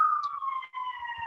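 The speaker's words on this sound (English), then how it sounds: "I'm hearing some sirens." A siren wails in a long, steady tone that slowly falls in pitch, briefly dipping once, heard alone at moderate distance.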